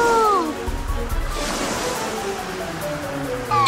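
Big cartoon waves crash and slosh in a loud, continuous rush of surf and spray, with brief sweeping whistle-like tones at the start and end.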